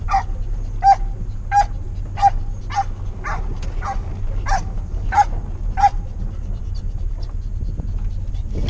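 A dog barks repeatedly in a steady, evenly spaced series of sharp, close barks and yips over a low rumbling background, fading out toward the end.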